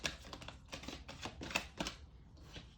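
Tarot cards are shuffled by hand in quick, soft, papery riffling bursts and taps, close and fairly faint, with a short pause before a final flutter.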